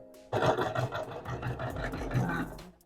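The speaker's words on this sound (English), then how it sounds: "Good sewing machine. Just sewing through layers anyhow" A sewing machine runs steadily, stitching through layers of dress fabric, its rapid mechanical chatter continuous for a couple of seconds, close by and moderately quiet.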